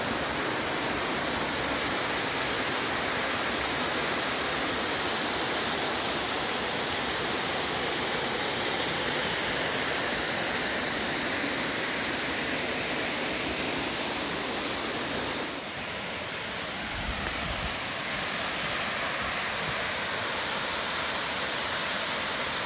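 The Comandaí waterfall near Santo Ângelo roars as a steady, loud, broadband rush of falling water, unbroken across the clip, with a slight dip and a low rumble near the end and no talk.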